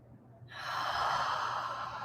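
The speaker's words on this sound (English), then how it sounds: "2 inhales with an HA, ha, exhale." A yoga practitioner breathes in sharply and then lets out a long, audible 'ha' exhale. After a brief quiet start, the breath comes close and clear, with no other voices.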